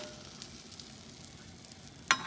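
Pitha cakes frying in oil in a home kitchen for Makar Sankranti, giving a soft continuous sizzle close by with a sudden sharp crackle near the end, no talk.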